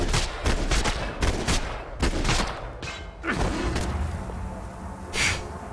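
Rapid, loud bursts of gunfire in the video game Max Payne 3, with repeated volleys crackling close by and a few heavier booms between them.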